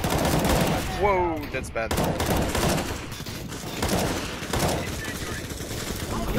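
Rapid gunfire bursts from sniper and other weapons in a Counter-Strike: Global Offensive-style shooter, sharp repeated cracks layered with chaotic battle noise while a player exclaims over it.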